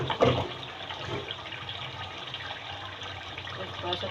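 Water pours steadily into a cooking pot of mutton paya (goat trotters) curry being braised with yogurt and onion, a close, continuous rushing splash that starts with a louder gush and then holds at an even level.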